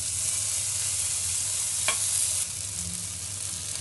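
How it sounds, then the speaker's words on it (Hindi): Marinated paneer pieces pan-frying in a little brushed oil over a medium flame, giving a steady close sizzle throughout with one brief sharper crackle and a slight drop in intensity near the end; no talking. "पनीर टिक्का जैसे गोल्डन ब्राउन होने तक अच्छे से सेकना होगा।"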